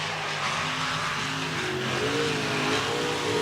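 A sprint car at Park Jefferson Speedway's dirt track roars as its engine climbs in pitch through acceleration, a loud, continuous snarl rising steadily with no voices.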